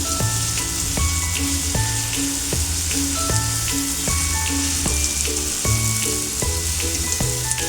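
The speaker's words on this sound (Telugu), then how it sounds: "కట్ చేసి పెట్టుకున్న పచ్చిమిరపకాయలు ఉన్నాయి కదండి, అవి కూడా వేసేసుకుందాము. ఒకసారి మళ్ళీ వేయించుకుందాము." Tomato curry with chopped green chillies frying in a pan gives a loud, dense, continuous sizzle, punctuated by regular clicks and scrapes of a spoon stirring.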